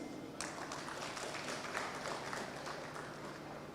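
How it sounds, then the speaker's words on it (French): Audience applause at a formal ceremony in a hall, a dense spread of clapping that starts suddenly and carries on steadily at moderate distance, with no talk over it. "Je souhaite qu'on les applaudisse."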